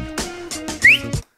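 A bright rising whistle near the end, amid several harmonic, tonal bursts that sound like someone whistling close by, stopping abruptly with silence after.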